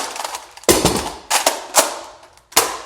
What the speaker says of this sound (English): quickly drop out this one and then reload the reloaded one